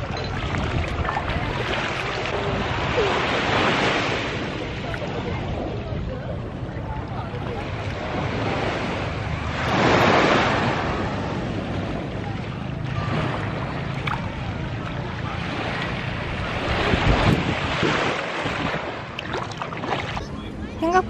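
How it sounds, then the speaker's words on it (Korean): Sea waves wash onto a Phuket beach at dusk in midwinter, with steady wind rumbling across the microphone. The surf hisses continuously, swelling into louder breaking rushes around the middle and again near the end. "바다 소리 좀 리얼하게 하려고"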